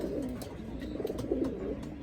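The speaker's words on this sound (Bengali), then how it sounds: "এখানে কিছু কবুতর আছে" Racing pigeons cooing close by, soft low repeated throaty calls overlapping one another over a steady background hum.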